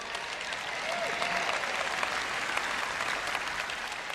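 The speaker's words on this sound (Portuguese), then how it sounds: "você deveria bater palmas e dar glória a Deus" An audience at a Portuguese-language church ministry event claps steadily and densely, a full crowd's applause sustained at even loudness throughout with no speech.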